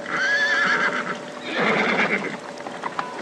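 Horses whinny loudly during a flood in an audio drama, two long shrill neighs in succession followed by a few hoof clops.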